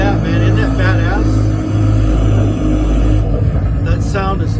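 Turboprop engines of a de Havilland DHC-6 Twin Otter running in Microsoft Flight Simulator: a loud, continuous low rumble and drone with tonal whine, and a voice talking over it.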